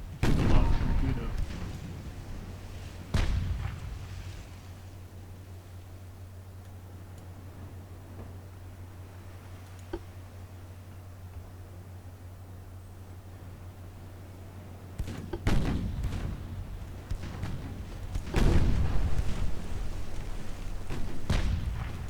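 Naval guns fire in the warship game Ultimate Admiral Dreadnoughts during a 1910 British light cruiser action: a few sharp, heavy booms spaced far apart over a low steady engine hum, with a voice speaking now and then.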